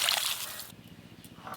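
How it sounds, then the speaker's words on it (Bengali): Water pours into a wok holding jackfruit seeds, a broad sloshing splash for the first moment that then settles into a softer trickle and gurgle, close and fairly loud with no talk. "কড়াতে জল দিয়ে কাঁঠাল বীজগুলো ভালো করে সেদ্ধ করে নেব।"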